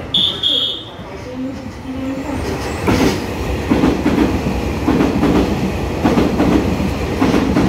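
Express train 438, an EMU3003 intercity Tze-Chiang set, passes close by with a rising rumble and rhythmic wheel clatter, following a brief high electronic tone at the start.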